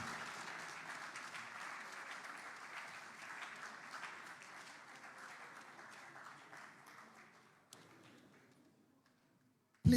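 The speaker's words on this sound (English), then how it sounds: "Ladies and gentlemen, please keep the applause coming." Audience applause at a political gathering in Abuja, a dense wash of many hands clapping that gradually fades out, ending in near quiet with a sudden loud knock at the very end.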